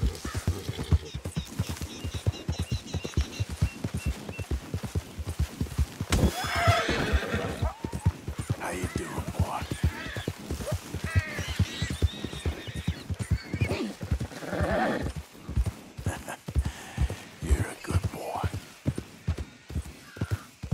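A horse gallops steadily in the Red Dead Redemption 2 video game, with a fast, continuous drumming of hoofbeats close by, occasional snorts and whinnies, and brief louder moments in the mix.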